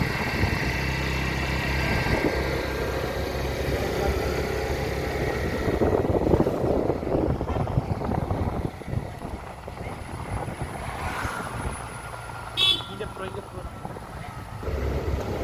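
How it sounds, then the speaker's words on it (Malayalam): A car travels fairly fast along a road, its engine and road rumble steady and close throughout, while someone talks over the noise. "സഫാദാണിപ്പോൾ ഡ്രൈവ് ചെയ്തുകൊണ്ടിരിക്കുകയാണ്"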